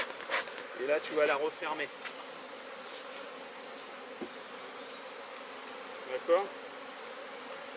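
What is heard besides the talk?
bees buzzing around an open beehive being smoked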